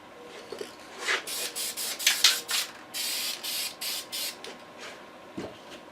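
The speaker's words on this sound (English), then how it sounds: "Alright, we're ready to spray." Several short bursts of spray paint hissing in quick succession onto Taylorcraft aircraft parts, fairly close, with brief pauses between them and a soft thump near the end.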